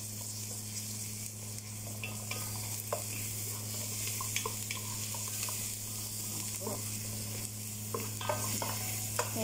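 Garlic frying in a pan for Bukhari rice, a continuous soft sizzle with occasional stirring scrapes and clinks over a steady low kitchen hum, with no talking.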